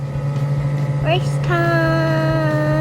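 Steady idling hum of an Arctic Cat SnoPro 120 youth snowmobile engine runs throughout, with a voice talking over it and a brief tonal sweep partway through.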